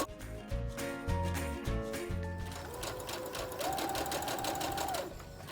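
A home sewing machine stitches a seam on a small dog dress, with a few short bursts first and then a longer steady whirring run, close and fairly quiet.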